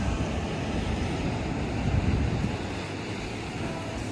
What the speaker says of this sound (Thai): วันนี้ทะเลบ้าคลั่งมากเลยค่ะทุกคนทะเลบ้าคลั่งมากเลยอะลมก็แรงแรง